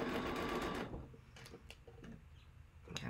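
A sewing machine that is due for cleaning runs in a quick clunky stitching burst, then stops, leaving faint scattered ticks and clicks of handling.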